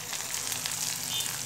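Onion, garlic and green chilli fry in a pan, giving a steady close sizzle with a faint crackle throughout.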